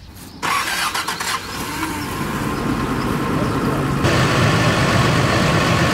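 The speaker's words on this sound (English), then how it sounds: "that one starts up and runs. Like I said, it's got a miss in it." A 4WD FJ80 Land Cruiser engine with a miss cranks, catches and settles into a rough, uneven idle, close and loud, rising a little louder toward the end.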